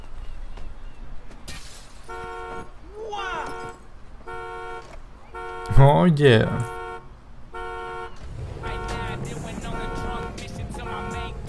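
Car horn honking in the video game GTA 5, several short repeated toots in rhythmic bursts beside a police car, with a crash-like burst midway and someone talking over parts of it.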